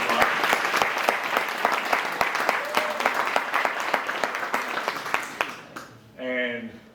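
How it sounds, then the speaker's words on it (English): An audience at an awards-style gathering breaks into dense, loud applause that carries on steadily, then cuts off as a voice begins speaking at the end. "Let's give him a big, big round of applause"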